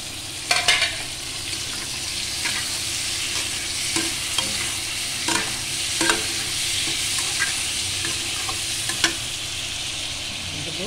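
Tomato cooks in a hot frying pan with a steady, close sizzle and crackle, marked by intermittent louder spits and stirring scrapes throughout.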